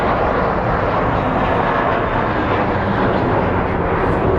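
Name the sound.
Boeing 737 jet airliner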